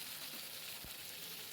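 Sliced ridge gourd frying in a pan with a little ginger, a soft steady sizzle throughout, close and fairly quiet, with one brief stir or scrape partway through.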